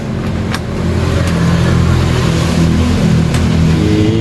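A repaired electric fan runs with a steady motor hum and a low droning tone, continuous, loud and close, with a few faint clicks near the start.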